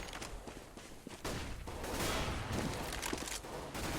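Gunfire during a professional Counter-Strike match, with bursts of shots and clattering mechanical noise over a dense, steady game mix at moderate level.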